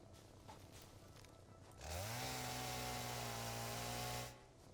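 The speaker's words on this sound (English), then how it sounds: "it might seem like a waste to use the chainsaw so much" A chainsaw in the video game Satisfactory revs up suddenly and runs at a steady, loud, buzzing whine for a couple of seconds before cutting off, with no voices.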